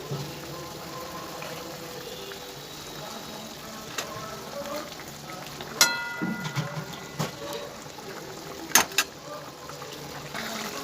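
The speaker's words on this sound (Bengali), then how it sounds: "সব ফুটে উঠেছে, এবার দিয়ে দেবো মাছগুলো।" Pieces of fesa fish going into a boiling mustard curry for fish jhal: a continuous bubbling simmer, with a few sharp splashes and clinks as the fish are dropped into the pot.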